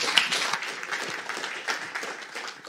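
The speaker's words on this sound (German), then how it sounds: "Einen herzlichen Applaus bitte." Applause from a conference audience after a speaker is introduced, fairly quiet and thin, with scattered individual claps fading gradually over a few seconds.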